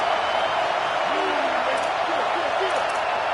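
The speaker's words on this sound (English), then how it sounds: "Listen to this crowd just shaking the girders of this place, trying to help their defense." Stadium crowd roaring at a college football game between Ole Miss and Notre Dame, a dense, steady wall of loud cheering with no breaks, faint whoops rising above it.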